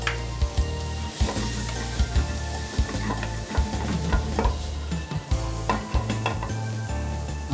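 Onions sizzling and frying with cooked chicken in a pan for fajitas, loud and close, with continuous hiss and repeated scraping stir strokes at a steady pace.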